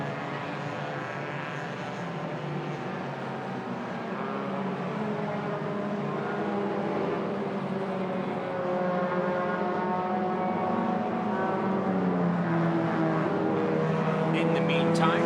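Race cars roar around a racing circuit, including the 5th-place Honda Malaysia car number 27, with a steady engine drone throughout and a commentator talking over it.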